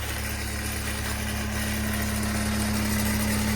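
A tractor engine idles steadily close by at a fence repair, a continuous low mechanical drone with a constant hum and no talking over it.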